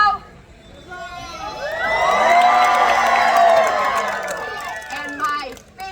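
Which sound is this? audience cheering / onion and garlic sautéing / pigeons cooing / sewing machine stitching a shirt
audience cheering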